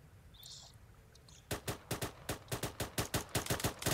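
Rapid bursts of gunfire from the video game Arma 3 in a tactical military operation, a steady string of around fifteen sharp, close shots following a quieter ambient lead-in.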